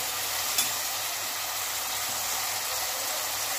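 Spices stirred into sambar in a frying pan give a steady, dense sizzling hiss with a faint tap of the spoon near the start, continuous and without talk.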